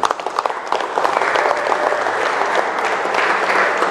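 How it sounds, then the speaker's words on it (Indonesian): An audience claps at an official education event in Bangkalan, a dense, steady burst of applause that starts with a few sharp claps and settles into an even wash, fairly close with no talk over it. "Wis, tepuk tangan."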